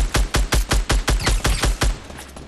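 Rapid gunfire in Fortnite, about ten sharp, evenly spaced shots in a quick automatic burst, loud and close, then cutting off abruptly.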